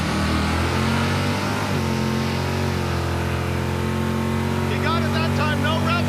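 Drag car engine revving hard during a burnout, loud and sustained with a steady droning roar throughout, while a person talks over it.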